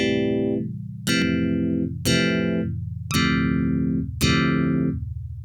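A Yamaha DX11 FM synthesizer playing a Rhodes-like electric piano patch: five bell-toned chords struck about once a second, each with a bright percussive attack that fades to a warm sustain, played alone.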